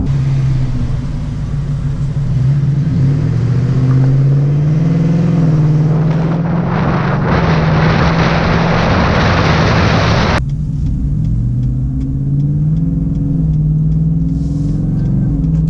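Supercharged 2018 Roush F-150 650 hp truck engine revving, a deep steady idle that climbs into a loud, rising rev with supercharger whine, then cuts sharply back to a rumbling idle.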